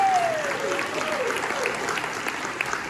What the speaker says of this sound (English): Give this guy a round of applause for his leadership.